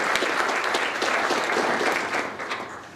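Sustained applause from a seated audience honors staff members at a STEM ecosystem event in San Antonio, an even wash of many hands clapping at moderate volume with no talk over it.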